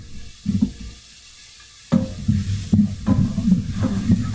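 Diced onion sizzling in a pan with beef while being stirred, close-up bursts of frying hiss broken by sharp scraping stirs, a short quiet gap, then steadier sizzling and repeated utensil scrapes.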